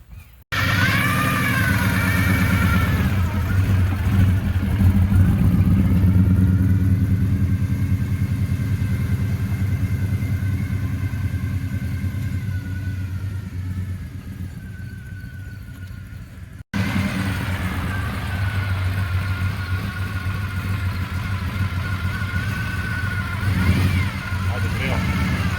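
A Chevrolet Monte Carlo sets off on its first drive out of the garage, a steady, close engine drone and road rumble running throughout, briefly cut and resuming, with voices heard over it.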